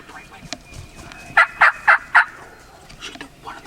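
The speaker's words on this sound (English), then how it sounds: "That's the gobbler." A wild turkey gobbler gobbles four times in quick succession during a Missouri spring turkey hunt, each gobble loud and rattling, with faint rustles and a quiet voice around it outdoors.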